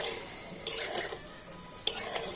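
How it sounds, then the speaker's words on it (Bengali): Palm fruit fritters frying in hot oil are stirred and turned, giving a soft steady sizzle with two sharp utensil knocks against the pan. "এইভাবে নাড়াচাড়া করে বড়াগুলোকে ভেজে নিতে হবে"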